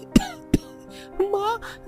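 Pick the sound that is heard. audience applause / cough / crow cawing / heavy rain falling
cough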